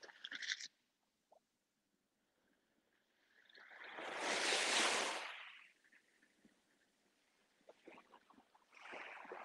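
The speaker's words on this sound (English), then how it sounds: "You can listen to waves." Ocean waves on a Sydney beach at sunrise, one soft surge of surf swelling and washing in over a couple of seconds amid quiet outdoor ambience, with faint rustling before and after.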